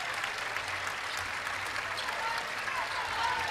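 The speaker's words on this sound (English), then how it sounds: "The crowd, everyone here in Minneapolis, have been standing and applauding her as they take her off the court." Arena crowd in Minneapolis at a Big 10 women's basketball tournament, standing and applauding an injured player, a steady wash of clapping with a commentator's voice over it.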